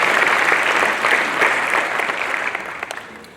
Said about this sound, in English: I would want us to give him a nice round of applause